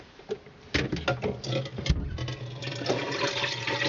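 Water from a reverse osmosis filtering system runs and splashes from a tap into a container, uneven at first, then settling into a steady close stream.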